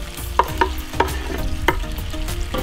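Italian sausage sizzles in a pan with white wine deglazing, a steady frying hiss broken by several sharp utensil scrapes and taps against the pan, close and clear with no talking.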